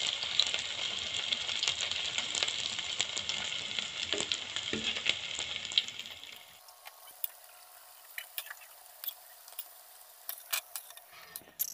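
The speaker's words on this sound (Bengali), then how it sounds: "উল্টে উল্টে, একদম অল্প আঁচে ভাজতে হবে" Soybean kababs fry on low heat in a pan with a soft, close sizzle and light ticking spatters, then the hiss stops abruptly, leaving only scattered clicks and taps.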